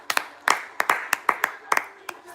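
Hands clap in a quick uneven patter of about a dozen sharp, close claps as people cheer a fight that has just ended, with faint talk underneath.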